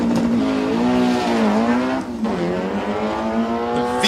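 A little Volkswagen drag race car at Drag Week 2017 launching down the strip, its engine roaring loud and close as the revs climb, dip at a shift, then rise again.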